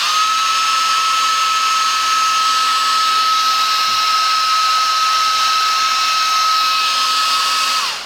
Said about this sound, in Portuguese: Agora a gente vai ter o auxílio de um secador para mostrar o que acontece com o aumento da temperatura